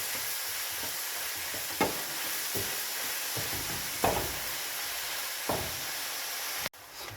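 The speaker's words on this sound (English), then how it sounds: "And then stir for around 3 minutes." Beef stew sizzles in a pot while a spoon stirs it, giving a constant frying hiss broken by several soft knocks and scrapes against the pot, close by and without talk.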